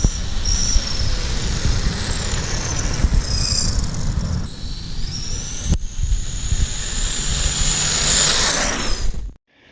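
A '96 T2 RC truck with a LiPo battery and 27-tooth pinion gear running, its electric motor giving a high whining drone that rises and falls with speed under gritty rolling noise, cutting out abruptly at the end.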